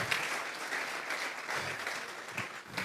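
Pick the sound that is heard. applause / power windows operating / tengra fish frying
applause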